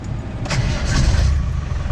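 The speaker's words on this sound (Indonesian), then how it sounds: "Biarpun mobil tua, sekali starter." A 1997 Land Rover Defender with a 300 TDI diesel engine and a turbo timer cranks briefly and fires on the first try, then settles into a loud, steady, rumbling idle close by with no talking.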